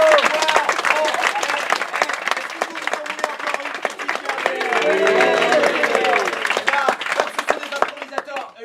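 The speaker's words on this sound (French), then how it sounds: "Merci beaucoup. Applaudissements." An audience at a Paris improv comedy cabaret claps steadily for several seconds, a dense wash of applause with some voices and cheers mixed in before it thins out.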